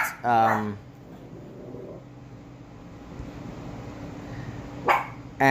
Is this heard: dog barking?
yes